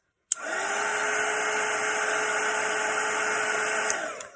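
Dryer blowing over wet watercolor paint on a Christmas gingerbread painting: a loud, steady, close whooshing hum that starts abruptly and holds for about four seconds with no talking.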